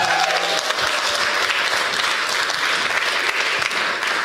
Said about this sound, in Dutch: Dat klonk als een heel welgemeend applaus.